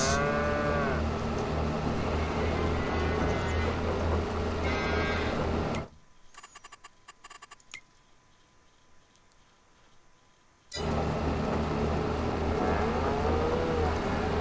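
Cows on a farm moo loudly and repeatedly while being given feed from a tractor's front-end loader, long close bellows separated by a brief quieter gap with faint engine-like noise.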